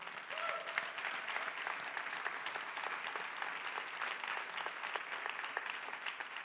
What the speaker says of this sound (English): can we give her a big round of applause?